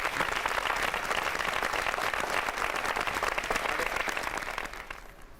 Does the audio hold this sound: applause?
yes